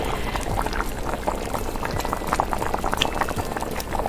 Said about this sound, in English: Boiling, boiling, boiling.